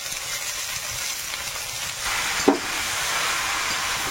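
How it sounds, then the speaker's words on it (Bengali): Spinach stir-frying in a pan in a home kitchen in the Sundarbans, giving a steady sizzling hiss throughout with one brief clatter midway as the greens are stirred. "পালং শাকটা একসঙ্গে দিয়ে একটু নেড়ে চেড়ে ভেজে নেব।"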